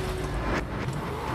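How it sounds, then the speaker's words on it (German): A car in the video game Resident Evil 7 rolls in reverse, giving a steady low engine drone and road rumble that holds throughout at a fairly constant level with no voices. "Ach so, ich kann nur Auto rückwärts fahren."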